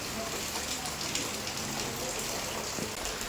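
Rain falls steadily on a village during the monsoon, a dense, continuous hiss of drops hitting surfaces, loud and close with no break.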